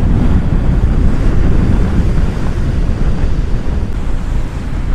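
Strong wind buffets the microphone on the coast at Stranraer, Dumfries and Galloway, Scotland, a steady, loud, roaring rush mixed with surf, continuous throughout with no talk.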